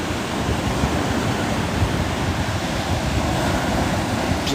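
Ocean waves roll steadily onto Hollywood Beach in southeast Florida at sunrise, a continuous broad wash of surf with no breaks, mixed with a little wind rumble on the microphone.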